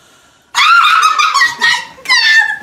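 A 1990s battery toy dog that barks and does somersaults gives out shrill, electronic yaps in two bursts, close and loud, after a brief quiet moment.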